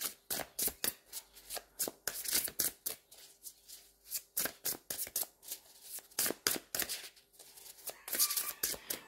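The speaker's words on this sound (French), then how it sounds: "On va prendre une troisième carte." Tarot cards shuffled by hand in a series of quick, crisp riffling bursts with brief pauses between, close and fairly loud with no talking.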